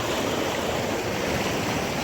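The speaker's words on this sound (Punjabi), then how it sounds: "ਗੰਨੇ ਨੂੰ ਚਲਾਇਆ ਜੀ ਪਾਣੀ" Steady rushing irrigation water flows continuously into a sugarcane field, a dense broadband wash with no pauses.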